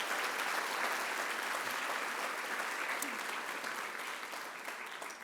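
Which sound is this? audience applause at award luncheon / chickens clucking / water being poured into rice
audience applause at award luncheon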